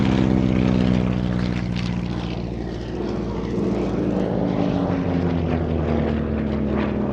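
Percival Provost propeller trainer flying at an air show, its piston engine droning loud and continuous for several seconds with a slight dip and swell as it passes, and no talk over it.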